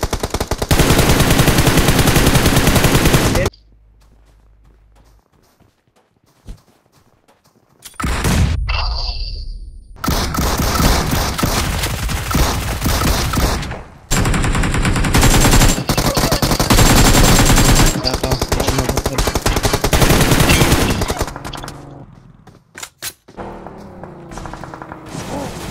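Automatic gunfire from the mobile battle royale game BGMI rings out in long, loud, dense bursts, broken by a quieter stretch and brief whooshes.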